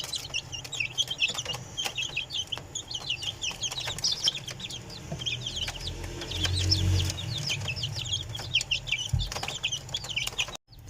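A flock of 26-day-old chicks busy eating boiled rice, with a steady dense chorus of high peeping and chirping and scattered pecking clicks close by.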